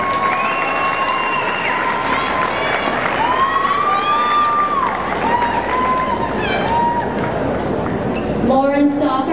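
Crowd at a high school prom applauding and cheering, a dense wash of clapping with shouts and whoops rising over it, loud and sustained with voices calling out throughout.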